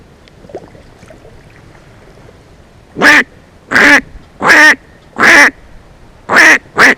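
A black duck quacks repeatedly on an Appalachian river, six loud, close, nasal calls in an uneven series after a quieter stretch of flowing water, heard from a kayak drifting downstream.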